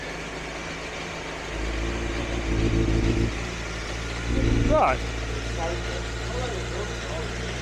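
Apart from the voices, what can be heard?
motorcycle engine running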